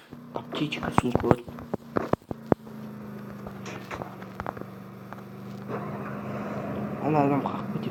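A car in the video game Free Fire drives with a steady engine drone underneath, while a player talks excitedly over it and a few sharp taps and clicks sound early on.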